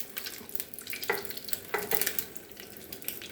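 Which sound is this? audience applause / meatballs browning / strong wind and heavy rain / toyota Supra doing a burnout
meatballs browning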